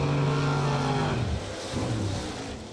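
A Chevy II wagon launches at a drag race and pulls a wheel stand, its engine a loud, harsh roar whose pitch drops partway through, then carries on in a rough rumble.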